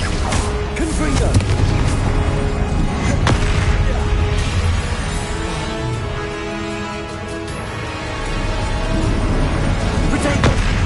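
Repeated fiery Confringo spell blasts booming in Hogwarts Legacy combat, a dense barrage of loud, close explosive impacts layered over continuous battle noise and music, with a voice underneath.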